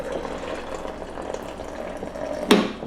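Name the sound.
water poured into shaker to mix protein powder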